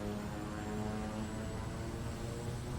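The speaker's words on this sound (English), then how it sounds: "I'm just gonna throttle up so you can hear the engine rev up." Kodiak 100 single-engine propeller aircraft in the MSFS2020 flight simulator, engine running up under throttle on the parking brake; a steady, loud, continuous propeller drone with a strong low hum fills the whole stretch, no talk.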